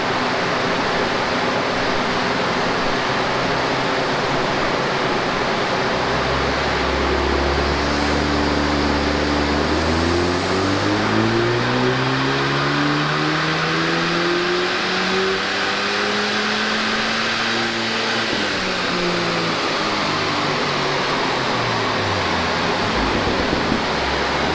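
Renault Megane R26R engine on a dyno during a base run, a loud continuous roar with a long rising rev sweep climbing in pitch through the middle, then dropping back down, heard alone amid heavy roller and fan noise.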